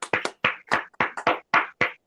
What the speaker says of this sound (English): So another round of applause for Ari, everybody.